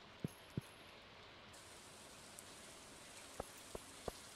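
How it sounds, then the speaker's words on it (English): Soft, steady hiss of falling rain in the video game Stardew Valley, with a few sharp drip-like clicks scattered through it, fairly faint and even. "And it's raining."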